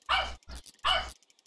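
Dogs barking indoors at a home, two loud close barks with a shorter softer yelp between them, then quiet.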